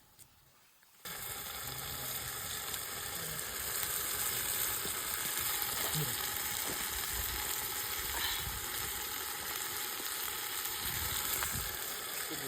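Coriander leaves, green chilli and onion go into nati-style donne biryani frying in a pan, bringing a steady, loud sizzle that starts abruptly and hisses on without pause, with no talking.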